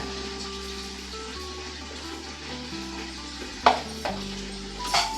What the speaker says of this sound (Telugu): ఇవన్నీ మనం ఫ్రై చేసుకోవాలండి